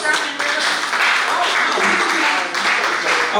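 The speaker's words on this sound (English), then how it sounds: "Give yourself a round of applause." An audience at a live talk event applauds, producing a steady wash of mixed clapping at moderate loudness, with voices audible underneath.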